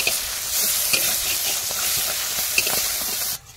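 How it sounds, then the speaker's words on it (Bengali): Prawns sizzle and crackle in a hot wok, a steady frying hiss with occasional stirring scrapes, then an abrupt stop. "এদিকে কড়াইতে চিংড়ি দিয়ে দিয়েছি"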